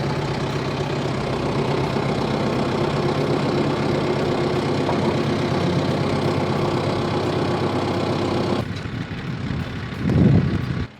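Steady, loud tractor engine rumbling at a constant pace while being loaded onto a Diamond C trailer, droning close by before cutting back briefly and swelling again near the end.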